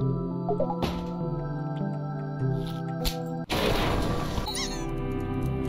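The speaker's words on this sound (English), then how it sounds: "Look at that stupid cat" Cat in the indie horror game HOUSE, a few short squeaky meow-like calls over a steady droning game soundtrack, with a brief noisy burst midway.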